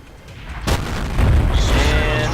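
Enemy tank cannon shots in World of Tanks hit with a sharp loud boom followed by a rumbling, ringing tail, close and heavy, with a brief quieter lead-in.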